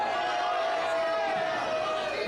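A Hub City Wrestling crowd in Selmer, Tennessee jeers at the wrestler Flynn, a steady wash of loud, distant crowd noise filling the hall without a break.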